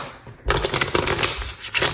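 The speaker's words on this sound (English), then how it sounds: "Let's give it a quick shuffle." A deck of tarot cards gets a quick shuffle, a close rustling riffle of paper lasting about a second and a half after a short quiet start, with no talk.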